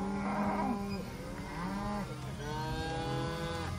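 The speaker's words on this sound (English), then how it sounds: "I don't understand cow talk" Several cows moo in loud, drawn-out calls that overlap one another at close range, with a steady farmyard rumble underneath and no talking.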